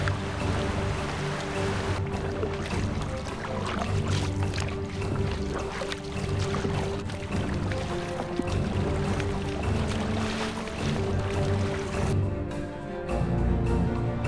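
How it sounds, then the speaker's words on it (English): Steady rushing water fills the scene with rhythmic splashes and knocks of oars against a boat rowed upstream against a river current, continuous and fairly loud, without talking. "Rowing the boat is tiring work."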